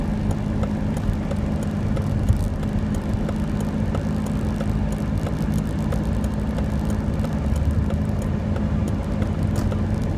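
A 2009 Volvo S60 2.5T in need of brakes accelerating on a test drive, a steady loud engine drone with road noise heard from inside the car, continuous for about ten seconds.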